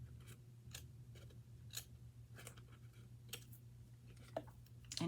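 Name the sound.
scissors cutting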